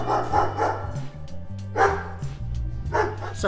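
Dogs and puppies bark in short sharp bursts, several loud yaps close by at a roadside stop in Bhutan, with whimpering between barks and no talk.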